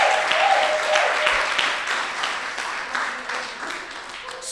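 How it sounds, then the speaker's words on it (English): Audience applauding participants at a 3MT research presentation competition during Research Week, a steady wash of many hands that slowly thins and softens over several seconds, with a faint voice briefly underneath. "Let's give all the participants a round of applause."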